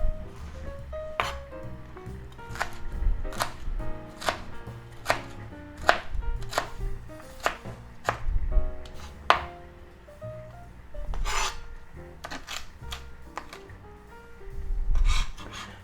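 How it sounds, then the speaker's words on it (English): A knife chops strips of small green pepper on a cutting board in quick, uneven bursts of sharp, close knocks, each with a brief scraping edge, continuing with short pauses and no talking. "you can turn them sideways and just chop them up good"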